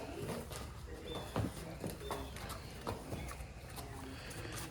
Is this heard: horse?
yes